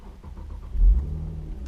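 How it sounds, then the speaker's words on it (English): A 2015 Infiniti Q60 with a 3.7L engine cranks briefly with a hard start, catches with a low surge and settles into a steady idle, close and moderately loud. "You see how it kind of chugs to life and then fires up and then comes to a nice smooth idle."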